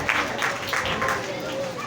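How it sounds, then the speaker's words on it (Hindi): A church congregation claps in a steady rhythmic beat of sharp bursts, several per second, with voices carrying over the clapping. "आए खुदा के लिए तालियां बजाएं"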